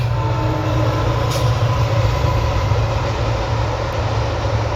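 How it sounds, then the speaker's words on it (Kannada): Loud, steady rumble and rolling clatter of a passenger train on the Arsikere–Mysuru line passing nearby, beside the Kaveri River, a continuous heavy drone with no voices. "ಟ್ರೈನ್ ಹೋಗ್ತಿದೆ ನೋಡಿ ಗಾಯ್ಸ್,"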